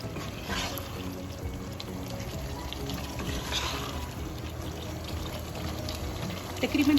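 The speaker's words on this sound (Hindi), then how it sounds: "थोड़ा सा मैं इसमें 1 पिंच फूड कलर डालूँगी और इसको भून दूँगी।" Whole white cumin fries with a pinch of food colour in oil for chicken biryani, a soft continuous sizzle with light stirring and clatter throughout, fairly quiet and with no voices.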